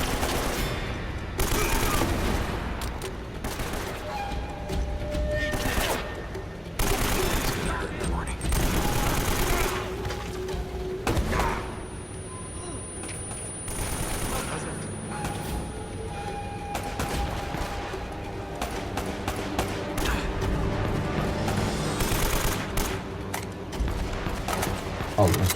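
Dense video-game gunfire from Uncharted, rapid bursts and volleys fired almost without pause for the whole stretch, loud and close, with a voice talking intermittently over the shooting.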